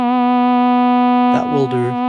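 A steady Toybox FM Zone Synth tone with strong harmonics and LFO vibrato on the main oscillator holds alone, then a voice briefly talks over it near the end.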